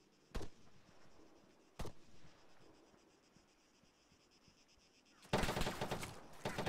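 Shots in the military shooter game Squad, two sharp isolated cracks early on, then a louder sustained burst of fire near the end, heard over a quiet ambient background.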